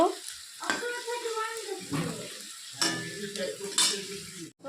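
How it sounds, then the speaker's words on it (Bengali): Taro leaf pakoras crackle and sizzle in hot oil, with uneven bursts of stirring and utensil clatter close by as the fritters are turned. "ভালো করে ভাজা হয়ে গেছে তো আরেক পাশও এখন ভেজে নেব"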